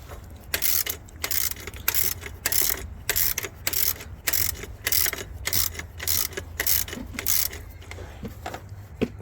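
A ratchet clicks in quick repeated bursts while tightening the serpentine belt tensioner on a 1996 Jeep Cherokee, close up and loud, with short pauses between strokes over a steady low hum.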